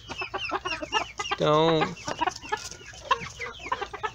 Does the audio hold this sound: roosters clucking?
yes